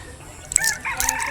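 A rooster on a chicken farm in Leyte crows once, loud and nearby, in a short rising call over faint background noise.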